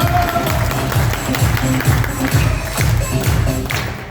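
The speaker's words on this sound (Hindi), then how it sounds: "तो जोरदार तालियां हो जाए मेरे ग्रेट मेंटर के लिए" A live audience applauds a mentor on stage with loud, dense clapping and a rhythmic pulse underneath that holds steady for several seconds.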